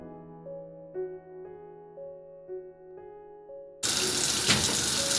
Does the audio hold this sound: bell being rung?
no